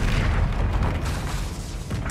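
A Confringo explosive spell goes off in the video game Hogwarts Legacy during a troll fight, a loud, dense rumbling boom that fills the whole stretch with a sharp pop at the end.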